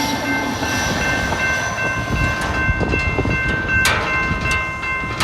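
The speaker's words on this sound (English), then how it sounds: "Just like there goes the train." Amtrak San Joaquin bi-level passenger train with five cars and an SC44 locomotive rolling past at Oakley Big Break, a loud rumbling clatter with sharp wheel and rail transients and a steady high tone.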